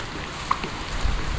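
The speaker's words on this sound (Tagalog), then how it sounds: "Pumuhos na naman po ang ulan" Heavy southwest monsoon rain pours steadily in a steady hiss, with a brief drip or splash near the start and a slightly heavier rush toward the end.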